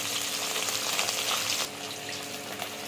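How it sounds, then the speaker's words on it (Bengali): Tangra fish frying lightly in hot oil, a close, steady sizzle and crackle that drops to a softer hiss partway through, with no voices. "ট্যাংরা মাছটা বেশি ভাজবো না, হালকা ভাজবো।"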